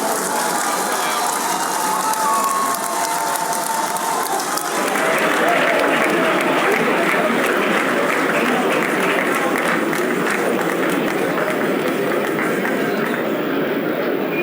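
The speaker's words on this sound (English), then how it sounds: "Continue to clap, it's a long walk." A large audience at a celebration gives Olusegun Obasanjo sustained applause as he enters, a continuous, loud, rain-like clatter that grows fuller after a few seconds and holds steady.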